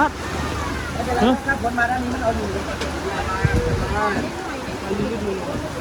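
Heavy tropical storm wind with rain roars and buffets the microphone continuously while people talk loudly over it.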